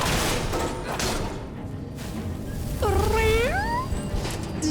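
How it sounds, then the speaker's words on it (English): A big cat creature in the video game Skyrim gives a short rising, wavering growl-meow over game ambience and thuds, close and fairly loud. "Are you making big cat noises?"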